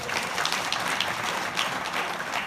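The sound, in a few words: audience clapping at a Shiv Puran katha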